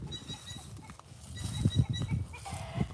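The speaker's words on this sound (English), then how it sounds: "Some kind of bird is causing a ruckus around here." Garden bird, apparently fowl, causing a ruckus: a run of loud clucking calls, busiest mid-clip, over outdoor background noise, with no speech.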